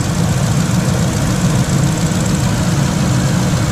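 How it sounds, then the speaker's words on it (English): A 2005 Ford F-150 with a 5.4 Triton 3V V8 idling close and loud, a steady low rumble with a faint ticking from the valves or lifters running through it. "I think I hear a little bit of valve or lifter noise, but I think that's pretty common with these."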